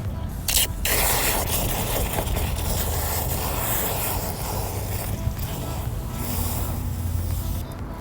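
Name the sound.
garden hose filling a bucket of Diablo Wheel Gel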